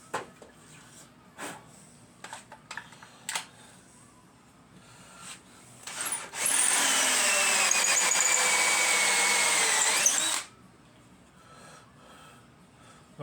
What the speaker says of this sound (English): What I'll do is I'm going to drill halfway through and go from the other side so I don't have no tear out.